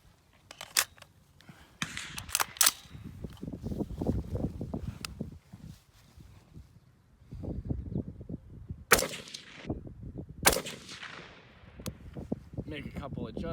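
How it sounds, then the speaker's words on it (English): Rifle shots from 55 grain FMJ ammunition fired at a steel target, several sharp reports spaced apart, with someone talking between them. "So all I'm trying to do is hit that steel target."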